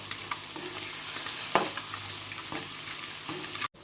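Chopped vegetables tipped into a hot pan for boiled egg rice and stirred, steady frying sizzle with a few scraping stirs and spoon knocks, close and continuous, no talking.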